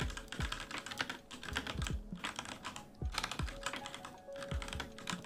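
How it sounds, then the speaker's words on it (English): Rapid typing on a noisy computer keyboard, with crisp clacking keystrokes in a steady, close, busy stream and no talk. "I think it just sounds faster with the keyboard that I have, the noisy keyboard."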